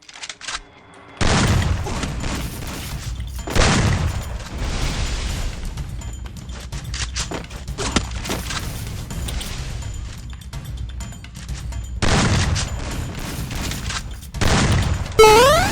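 Bursts of gunfire from the video game Free Fire come in loud, dense volleys that start and stop, with booming shots spread through the clip.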